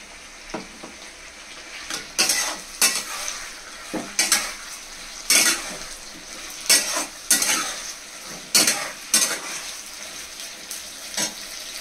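Spices sautéing in a pan with a steady low sizzle, broken by repeated scraping stirs of a spoon against the metal at irregular intervals, close and moderately loud.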